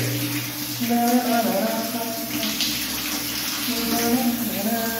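Water runs steadily from a tap during bathing, a continuous splashing wash that fills the whole stretch, with a faint voice murmuring underneath at times.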